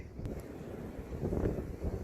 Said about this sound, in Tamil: நம்ம மேலே வந்துட்டதுனால காற்று ரொம்ப அடிக்குது